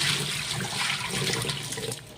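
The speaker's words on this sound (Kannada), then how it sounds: "ಎಷ್ಟು ಬೇಗ ನೀರು ಹೋಗ್ತಾ ಇದೆ ನೋಡಿ" Water rushes steadily down a home kitchen sink drain pipe, a continuous close gurgling flow that holds at the same level throughout without pause.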